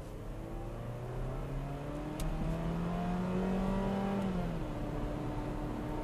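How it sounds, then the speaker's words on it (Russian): A Mini Cooper Countryman with automatic transmission accelerating on the road, its engine and exhaust rising in pitch with a whining, squealing note heard from inside the cabin, steady and moderately loud, with no talking. "Выхлоп, кстати, очень сильно слышно."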